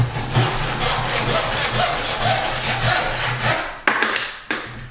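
A hand saw cuts through a wooden door architrave with steady back-and-forth rasping strokes, close and fairly loud, ending in a few sharp knocks.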